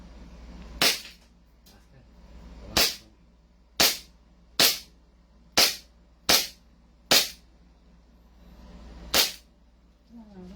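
Eight sharp pistol shots from a Staccato handgun crack at an outdoor firing range, spaced irregularly about one second apart, loud and close with quiet gaps between.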